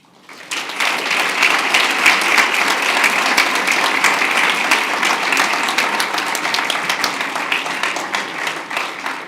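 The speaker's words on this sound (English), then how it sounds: "Please give a big round of applause" Sustained, dense audience applause rings out at a school district board of trustees meeting to honor Ysleta High School's Region 19 Citizen Bee winner. The clapping starts abruptly, stays loud and steady for about nine seconds, then eases slightly.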